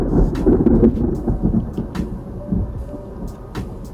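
Thunder rumbles before a storm, a deep, rolling low roar that swells and fades over several seconds with a few faint crackles, heard alone.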